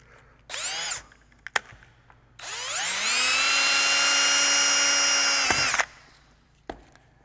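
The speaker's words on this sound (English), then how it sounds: "So what I'll do is I'm going to drill another hole" A power drill bores a hole in the instrument panel of a Zenith Super Duty aircraft, starting with a short burst, then a long steady whine of about three seconds that spins up and cuts off, with light clicks between.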